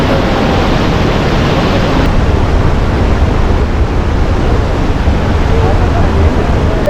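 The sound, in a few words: large waterfall next to a suspension bridge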